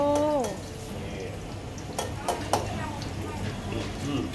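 Garlic fries in hot oil in a pan with a steady soft sizzle, while occasional clinks of utensils against the pan sound and a person talks over it.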